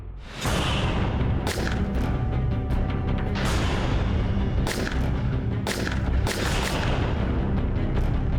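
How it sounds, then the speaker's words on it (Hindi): Rapid, loud gunshots crack out in dense repeated bursts over a constant roar, sharp reports stacking irregularly throughout. "सर मैंने बहुत सारी गोलियां चलाई वहां पे"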